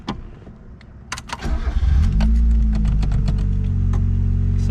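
A 1988 Mazda 323 GTX with the B6T engine, a backyard find being revived. A few faint clicks come first, then the starter cranks briefly and the engine catches and settles into a loud, steady idle close by.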